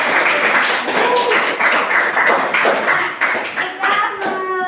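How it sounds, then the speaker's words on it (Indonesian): A classroom of students claps together after a group presentation, a lively patter of hands with a few louder taps, while voices chatter over the applause. "Berikan tepuk tangan"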